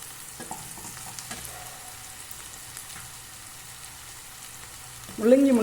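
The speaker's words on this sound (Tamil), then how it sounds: "முள்ளங்கி கொஞ்சம் நல்லா எண்ணெயில் இப்படி வதக்கிப்போம்." Grated radish frying and being stirred in hot oil, with a soft continuous sizzle and scattered scraping stirs, faint at first and growing louder at the end.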